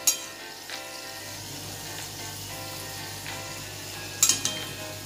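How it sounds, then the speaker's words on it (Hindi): Moong dal khasta kachoris deep frying in oil on a low flame, an even bubbling sizzle with a few soft clinks and a brief louder crackle near the end. "बाकी के सभी कचौरियां भी इसी तरह से तल के लेंगे और याद रहे हमें लो फ्लेम पर ही इन्हें तलना है"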